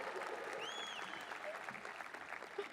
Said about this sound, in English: applaud for that, that's awesome.